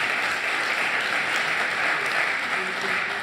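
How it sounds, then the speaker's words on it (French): Audience applause at a round-table debate on real-estate agency networks, steady broadband clapping filling the room throughout, with faint voices mixed underneath. "Applaudissements."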